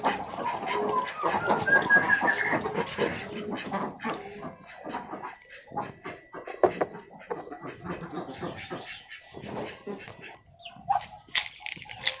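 Village chickens in a coop cluck and call in short irregular bursts, with a rooster-like crow early and scattered bird and animal noises around, moderately close.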